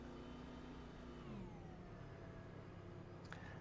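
A single ANZCAR Thunder race car saving fuel at Iowa drones at a steady, muted engine tone with slowly sliding pitch, heard faint and distant throughout.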